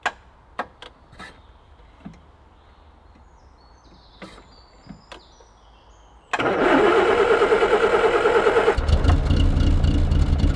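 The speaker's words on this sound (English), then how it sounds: "Bit more choke. Definitely needs a new starter motor." A 1981 British military Land Rover with a failing starter motor: several faint clicks and ticks, then the engine cranks and catches, settling into a loud, steady running note that deepens toward the end.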